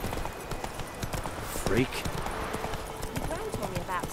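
Hooves of Roach, Geralt's horse in The Witcher 3 game, clip-clop in a steady trotting rhythm throughout, close and clear, while a voice talks over them and a brief horse snort breaks in midway.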